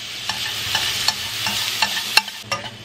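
Carrots and bell peppers are stir-fried in a hot pan and give off a continuous sizzle, with light clicks and scrapes of stirring recurring every half second or so. Nobody speaks.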